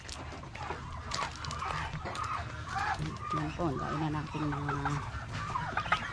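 Chickens cluck and a turkey gobbles close by on a farm, while a person speaks over the birds.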